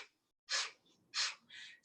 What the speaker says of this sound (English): So remember, breath of fire. You're breathing out through your nose quickly